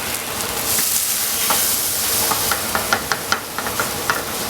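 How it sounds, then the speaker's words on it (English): A thickening cornstarch sauce sizzles in a pan while a spoon stirs it, with a run of sharp, evenly spaced knocks against the pan near the end. "I'm gonna give this a stir and let this cook out for a moment"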